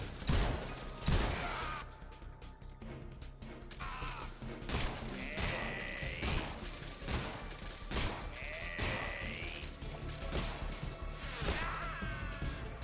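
Repeated sharp gunshots and impacts in the stealth action video game Metal Gear Solid Delta: Snake Eater, a burst of fire with whooshes and crashes over a steady game background, no speech.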